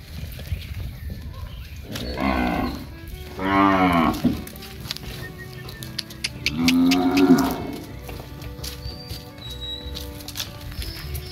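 Heifers from a group of half-blood cattle, several close, loud drawn-out moos spaced a few seconds apart over an outdoor farm background.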